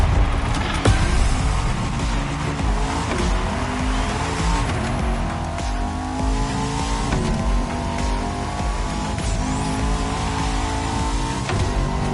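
A Bugatti hypercar concept in The Crew Motorfest racing game roars along with a sustained high engine note that rises and shifts through gears, with tire squeal and scattered skidding noises throughout.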